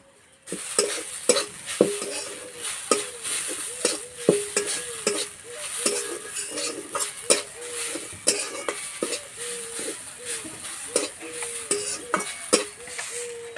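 Potatoes frying in a pan as a spatula stirs them, with repeated scraping strokes and clinks at a steady rhythm over a continuous sizzle, close and clear.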